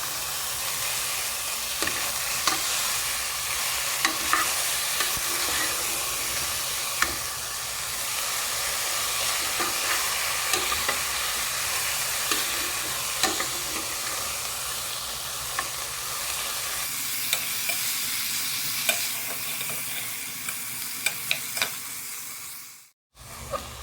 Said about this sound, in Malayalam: ഇത് നമുക്ക് നെയ്യിലൊന്ന് നന്നായിട്ട് വഴറ്റിയെടുക്കാം.